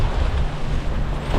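Wind and rain buffet a sailing boat in Scotland, a steady loud rush of gusting wind and water noise with low rumble throughout, no voices.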